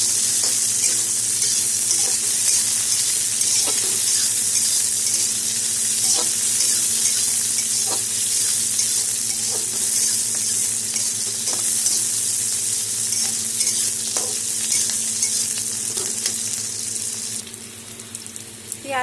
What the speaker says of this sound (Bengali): পেঁয়াজটা মোটামুটি ভাজা হলে এখন দিয়ে দেবো বড় সাইজের একটা টমেটো কেটে রেখেছিলাম